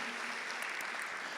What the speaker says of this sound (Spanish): ¿Cuántos dan un aplauso a Jesús?